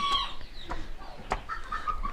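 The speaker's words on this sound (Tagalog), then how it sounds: "Ito yung mga ibang alaga ko din manok." Backyard chickens, including fancy hobby birds, cluck in short, close bursts with brief pauses between calls, loud and clear with no talk over them.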